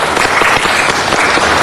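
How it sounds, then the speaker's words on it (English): Audience applause in a city council chamber, a loud, close burst of many people clapping briskly and steadily for a short moment, with no talking over it. "Everybody, let's give Lacey a round of applause because I hope she finds a home today."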